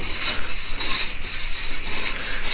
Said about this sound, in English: Let's clean the grate before I do that.